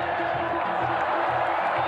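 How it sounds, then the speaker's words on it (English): A stadium crowd at a Saudi football match between Al-Nassr and Al-Orubah cheers with a steady broad roar, with a commentator talking over it. "the crowd responding enthusiastically to the no-look"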